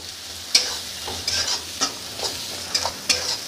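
A spoon scrapes and stirs turmeric, sambar masala and garam masala through frying masala in a pan for Marathi dalcha, giving several sharp clinking strokes over a soft steady sizzle, close with no voices.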